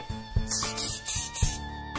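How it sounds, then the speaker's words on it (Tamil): Spray paint hisses from a makeshift sprayer built from a cool drinks bottle, in four short bursts of bright hissing over steady background music. "என்ன ஸ்ப்ரே பெயிண்ட் அடிச்சிட்டு இருக்காரு, அதுவும் கூல் ட்ரிங்க்ஸ் பாட்டில வச்சு"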